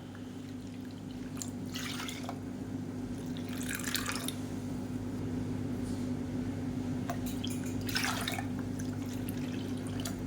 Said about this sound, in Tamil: இப்போ 1 கப்புக்கு நல்லா 5 கப்பு தண்ணி ஊற்றிக்கலாம்.